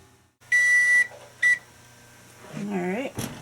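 An oven timer being set: two electronic beeps, a long one then a short one, followed by a faint hum and a brief voice-like murmur in the kitchen.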